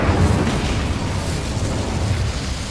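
Incendio fire spell cast in the Hogwarts Legacy video game, a loud, dense, roaring burst of flame and rumble that fills the whole short moment without letup.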